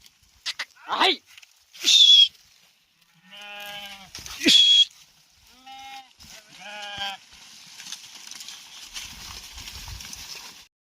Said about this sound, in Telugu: మన గొర్రె అయితే ఉరికొస్తాయి నీళ్ళు తాగడానికైతే